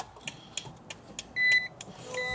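A 2003–2008 BMW Z4 (E85/E86) switched on after its battery is reconnected gives a few soft clicks and whirs, then a short bright chime, with faint electronic beeps trailing off.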